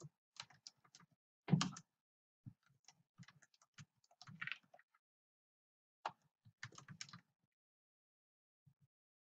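Typing on a computer keyboard while writing code for a SharePoint 2013 console app, scattered soft key clicks in short irregular bursts with pauses between, close and quiet.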